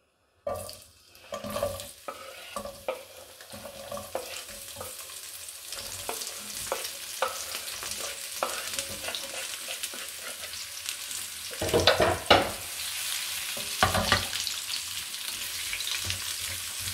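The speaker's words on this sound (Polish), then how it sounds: "Na patelnię wlewamy ponownie łyżkę oliwy tym razem, a następnie dorzucamy resztę warzyw." Vegetables for Hungarian beef goulash frying in a spoonful of olive oil in a pan, a steady close sizzle with occasional stirring scrapes and louder crackles midway.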